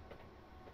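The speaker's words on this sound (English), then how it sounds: "That was a train that just went by." Train passing by in a London-to-Brighton train simulator game, a faint, low, steady rumble with soft rolling texture, heard alone.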